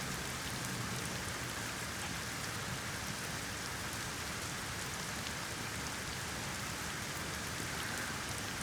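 Steady rain falls in The Medium video game, a dense, even hiss of raindrops that continues unbroken at a constant level.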